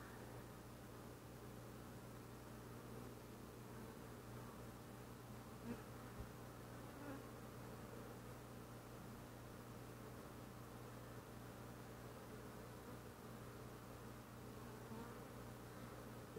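Steady low droning hum of many honeybees inside a hive during an inspection, continuous and even throughout, with no voices and only a brief soft knock near the end.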